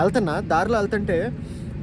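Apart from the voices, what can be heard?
No everyday noises stand out.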